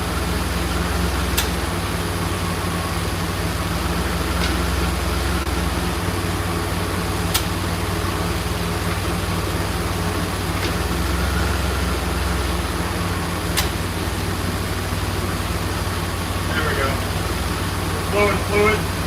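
Steady idle of a DeLorean engine with the air conditioning compressor running and its clutch engaged, a constant low hum and fan drone throughout, with faint ticks and talk over it.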